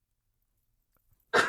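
A single sharp sneeze bursts out close and loud at the very end, after near silence, in an indoor interview setting.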